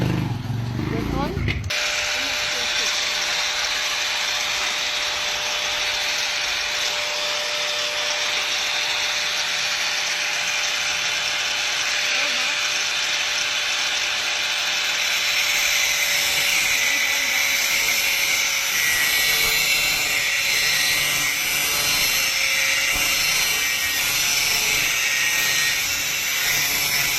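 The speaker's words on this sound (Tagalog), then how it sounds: "Kayang-kaya hawakan itong ating grinder." Handheld angle grinder switched on and running steadily: a loud, sustained high-pitched whine that starts abruptly and holds for the whole stretch, close by and alone.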